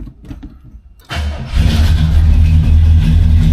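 A 1969 Buick Electra 225 V8 cranks briefly after sitting overnight, catches and fires up, then settles into a loud, rumbling cold idle close to the microphone.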